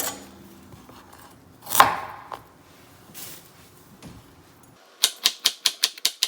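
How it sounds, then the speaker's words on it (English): After some earlier handling, a knife cuts a peeled carrot on a cutting board with about seven crisp, evenly spaced chops near the end, sharp and close, with no talking. "Start with the carrot and peel it. And then we're going to cut it."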